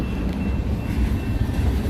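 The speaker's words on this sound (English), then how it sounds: "waiting for a train." A train rolls past nearby with a steady low rumble and faint rail clatter, continuous and fairly loud throughout with no voices.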